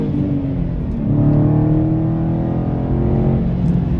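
Dodge Challenger Scat Pack widebody roars under hard acceleration, a loud close engine note rising steadily in pitch with layered harmonic whine from inside the car.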